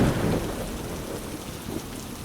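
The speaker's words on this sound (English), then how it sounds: "The rains fall softer now" Steady rain falls on old slate roofs and eaves in an even, soft hiss, with low thunder rumbling faintly beneath; no voices.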